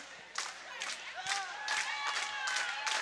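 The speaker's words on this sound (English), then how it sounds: "the St. Louis Park crowd is really fired up after that exciting game 1 victory." A St. Louis Park home crowd at a high school volleyball match claps in rhythmic bursts, with shouts and whistles rising over the steady beat.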